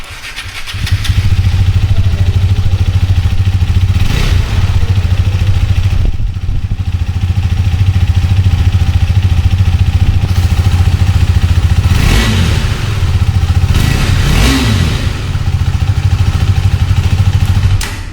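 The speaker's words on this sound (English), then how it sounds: "Now let's listen to the exhaust note of the vehicle." A 2022 KTM Duke 250 motorcycle engine idles loudly up close, with several throaty revs rising and falling through the exhaust.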